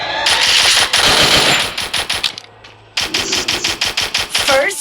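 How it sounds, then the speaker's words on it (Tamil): A Thompson submachine gun in Free Fire fires in loud, close automatic bursts of rapid sharp cracks, pausing briefly before another rattling string of shots. "தாம்சன் கன் கொஞ்சம் ஓரளவு நல்லா இருக்குது."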